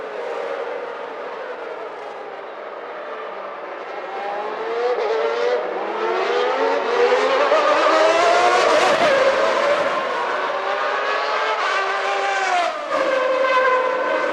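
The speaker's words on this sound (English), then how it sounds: "you see Jean Alesi going through and over the gravel trap at the Rettifilio, creating an enormous cloud of dust" A Ferrari Formula One car at the 1991 Italian Grand Prix at Monza, its high-pitched V12 engine screaming loud and close, rising and falling through gear changes as it runs over a gravel trap, with no voices.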